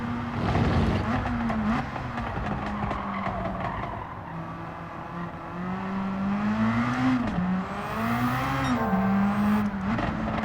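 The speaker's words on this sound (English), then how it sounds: "I'm trying to listen for when that turbo is trying to kick in" Turbocharged race car at Tsukuba in Gran Turismo 7, engine droning and shifting pitch through short gears with tire squeal and skids, loud and continuous, a voice talking over it at times.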